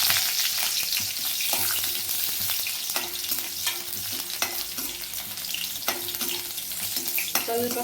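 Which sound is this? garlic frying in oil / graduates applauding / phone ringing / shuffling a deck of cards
garlic frying in oil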